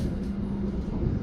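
A KRL commuter train passes in Jakarta, giving a steady, close, low rumble that holds evenly throughout without a break, with no voices over it.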